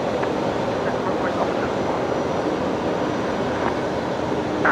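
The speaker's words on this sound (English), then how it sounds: "we've got Qantas Link 1967 on the move. So that is the Alliance liveried Embraer there now" A QantasLink Embraer jet in Alliance livery taxiing toward runway 01 right at Brisbane Airport at night, bound for Newcastle: a steady, fairly loud engine whine and rushing hum with a few faint higher chirps over it.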